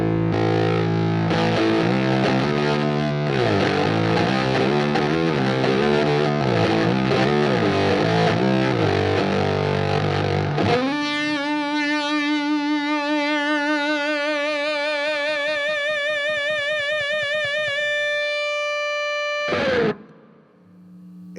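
An electric guitar played through a Dweezbender, a germanium fuzz pedal modeled on a tone bender, gives thick distorted riffs that give way to a long sustained chord ringing out, then one short final stab, with no talking.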